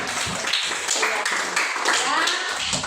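Children clap together in a classroom during a hajj practice lesson, a brisk patter of many small hands with voices mixed in underneath.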